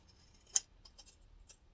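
Scissors snip through layered bag material for a laptop briefcase interior panel: one crisp, close cut followed by a few fainter snips in a quiet room.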